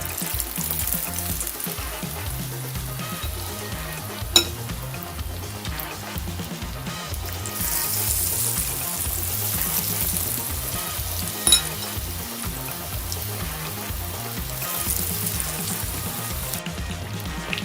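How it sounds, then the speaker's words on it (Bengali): Batter-dipped sweet pumpkin slices for beguni fry in hot oil, giving a continuous, even sizzle with occasional stirring scrapes and a couple of sharp clicks, steady and close throughout, with no voice. "এক পিস এক পিস করে যে মিষ্টি কুমড়া পিসটা কেটেছি বেগুনের সাইজে সেটা বাটার মধ্যে ডুবিয়ে তেলের মধ্যে দিয়ে দিয়েছি"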